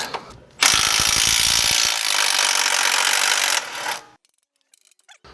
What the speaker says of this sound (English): just using a long ratcheting wrench and a box end